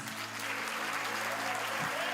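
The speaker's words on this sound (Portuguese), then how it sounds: "Aplauda Jesus por isso." Church congregation applauding during a Portuguese-language worship service, a steady wash of clapping that fills the whole stretch at even loudness, with low hum and a brief voice near the end.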